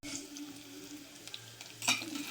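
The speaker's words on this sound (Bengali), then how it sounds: "পেঁয়াজটা মোটামুটি ভাজা হয়ে গেছে, এরপর আমি সবজিগুলো ছেড়ে দেবো" Onions frying in oil in a wok for a vegetarian mixed vegetable curry, a soft steady sizzle with a brief clatter of stirring near the end.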